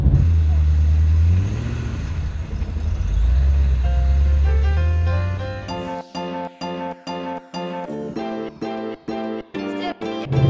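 A supercharged Ford Mustang GT500 engine runs with a deep low rumble and a couple of swelling revs, then gives way to a rhythmic chiming pattern of tones, while people talk over it.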